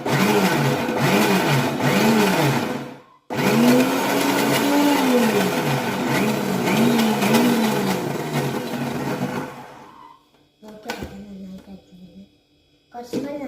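A blender whirs loudly on its plus setting while whipping a creamy Sharjah shake, the motor pitch rising and dipping for about ten seconds before cutting out, followed by brief clatter.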